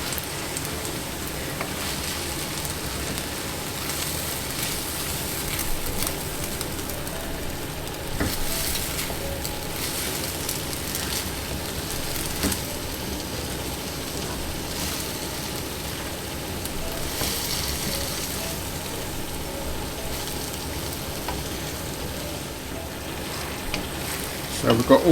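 Singapore noodles being stir-fried with sauce in a pan, a steady sizzle with scraping stirs running throughout, moderately close, with a voice talking over it at times.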